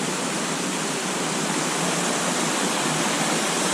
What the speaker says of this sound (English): But a pretty awesome sight for a small waterfall.